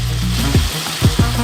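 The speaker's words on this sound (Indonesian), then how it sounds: "tuangkan ke dalam blender" An electric blender crushes peanuts into a medium-fine coarse grind for the outer layer of a giant homemade Snickers ice cream. The motor whirs in a steady, loud, grinding roar with a few brief surges, and no one speaks.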